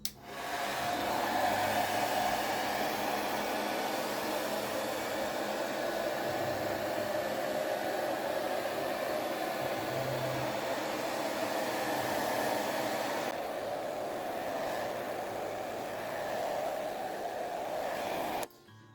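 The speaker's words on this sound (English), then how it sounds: "I'll start the process with the heat gun on setting number 1" A heat gun on its lowest setting blows steadily over covering fabric on a Spad model wing, a loud continuous airy roar that holds for nearly the whole stretch, its tone shifting slightly near the end before cutting off.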